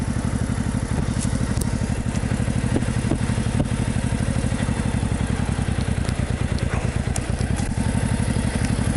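A motorcycle engine running in slow stop-and-go traffic in Lisbon, a close, steady rapid putter held in first gear, with faint clatter throughout.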